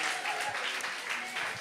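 A church congregation claps and cheers in a continuous roar of applause mixed with shouts, loud and dense for the whole moment, with no single voice standing out.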